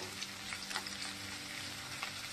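Vegetable stalks frying lightly in hot oil, a steady close-up sizzle with faint crackles and occasional stirring, no voices over it.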